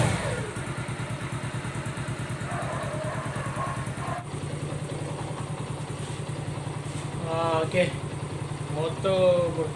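A Lagenda 110 motorcycle with a newly installed hand clutch idles with a steady, even putter that holds throughout, while people talk nearby over it.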